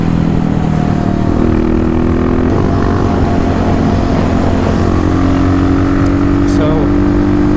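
Two Kawasaki dirt bikes, a big-bore KLX351 with an FMF full exhaust and a KLX250, drag race, their engines revving loud and close with rising, sustained tones that climb again as they shift.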